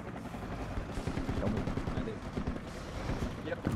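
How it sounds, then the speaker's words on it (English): Enemy gunfire in the Project Reality military shooter, Muttrah City map, crackling as dense, continuous shots close by, mixed with battlefield noise throughout. "I hear enemy fire very close to you."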